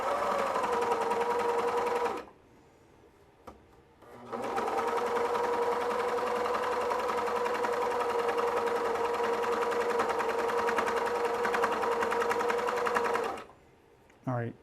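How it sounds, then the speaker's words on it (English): A Bruxel Sienna 4-thread overlocker serger stitches through heavy fabric, a loud, steady mechanical whir in two long runs split by a short pause. "I'm just going to try starting from heavier fabric and going through it and seeing what that does."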